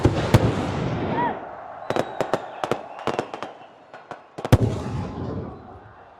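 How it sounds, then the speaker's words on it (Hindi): Sharp firecracker bangs go off one after another in irregular bursts at a cricket stadium inauguration in Khyber Pakhtunkhwa, loud and close, with faint voices in the background. "इन पटाखों की एक एक चिंगारी"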